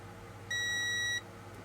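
A multimeter sounds a single clear electronic beep of under a second during a continuity test across a model rail wheel and metal bogie, standing alone over faint background hum.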